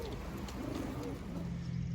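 Young pigeons near their home loft give low, murmuring coos that carry over a steady outdoor background hum.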